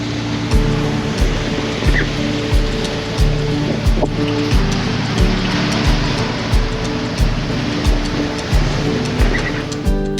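A boat's engine drones steadily while the hull slaps through ocean waves off the Pacific coast between Long Beach and Ensenada in a regular rhythm of heavy thumps, with wind and spray rushing throughout.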